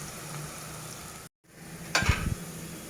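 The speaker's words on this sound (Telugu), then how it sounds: "ఈ ఆనియన్ బాగా కొంచెం రెడ్డిష్ కలర్ వచ్చే వరకు మనం బాగా వేయించుకుందామండి" Onions frying in a pan until reddish-golden for chicken fry, a steady low sizzle that cuts out briefly, then returns with a louder burst of crackling and stirring near the end.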